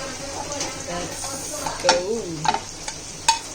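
Pork is added to a frying pan and stirred, giving a steady low sizzle with scraping and clinks of a utensil against the pan, while a voice talks quietly in the background.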